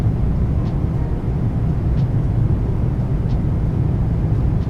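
A Boeing 737 MAX 8 takes off in the iFly flight simulator, its engines a loud, steady, low roar that holds constant throughout with faint ticks now and then.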